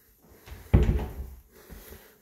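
A small coat closet door in a house hallway swings open with one sharp wooden knock and a brief rattle, close by in a quiet room.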